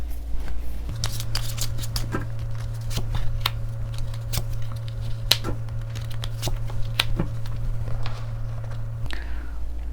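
Tarot cards are shuffled and drawn close up, with crisp irregular flicks and snaps of card stock over a low steady hum and no speech.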